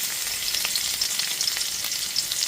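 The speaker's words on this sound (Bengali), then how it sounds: "গ্যাসের ফ্লেমটা লোতে রেখে রসুনটা এখানে 20 সেকেন্ড ধরে ভেজে নিয়েছি" Chopped garlic cloves frying in oil over a low flame give a steady, close hiss and sizzle, with faint stirring taps underneath.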